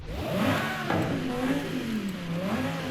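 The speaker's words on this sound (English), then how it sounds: "exhaust does sound pretty good" A BMW M1 in Forza Horizon 5 with an upgraded exhaust revs steadily, its engine note rising and falling in smooth mid-range sweeps, loud and close throughout with no talk.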